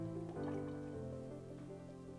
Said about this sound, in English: So we're going to use our funnel and pour our oil